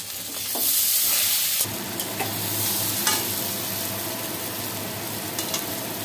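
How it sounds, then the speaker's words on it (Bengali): A potato filling for singara with chopped coriander and garam masala is stirred in a hot pan, a constant frying sizzle with a few louder scrapes and spoon knocks, close and without talk. "দিয়ে এবার আমি পুরটাকে আরেকটু ভালো করে রান্না করব।"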